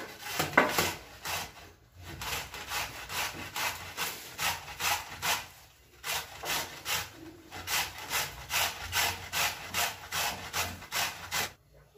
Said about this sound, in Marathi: तर या पद्धतीने आपल्याला किसणी घ्यायची आणि हे बांबूची भाजी किसून घ्यायची आहे